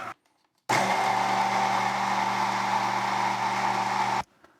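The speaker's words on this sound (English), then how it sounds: "I'll give it a good mix with my immersion blender here." An immersion blender mixing pottery glaze whirs loudly and steadily for a few seconds after a short silence, then stops abruptly; no talking.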